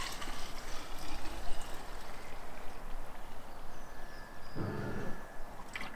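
Clean water gushes into a bucket holding a small measure of car-cleaning product, a continuous rushing, splashing pour heard up close, with a short hollow clunk of the container near the end.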